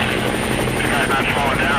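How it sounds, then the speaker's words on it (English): A helicopter flies overhead with a loud, steady rotor thump and a turbine whine, heard briefly. "the helicopter is in the air"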